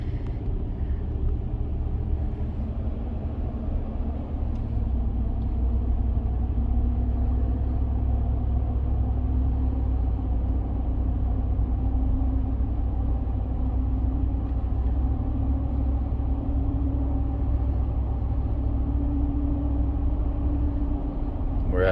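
Ford F150 idling after a cold start, a steady low engine rumble with a faint rising hum, constant and close throughout, no voices.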